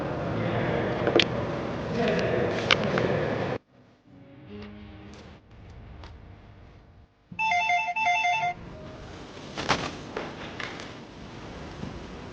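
A telephone ringtone rings after a call is placed, heard in a Myanmar TV drama scene. A short burst of bright repeating tones sits between louder stretches of background sound.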